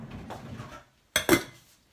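A metal lid is set onto a cooking pot of palabok broth with a couple of quick close clanks, after softer kitchen rustling and a brief silence.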